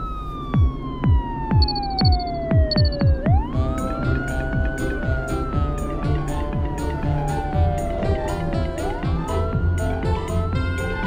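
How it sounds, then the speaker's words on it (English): A cartoon police car's siren wails loudly and continuously in long rising and falling sweeps, with short, high beeping pulses near the start and a steady rhythmic pulsing underneath. "The police car will go first."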